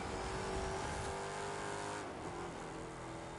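An SRT8 V8 muscle car in the racing video game The Crew 2 holds a continuous, loud engine roar with revving, alone throughout.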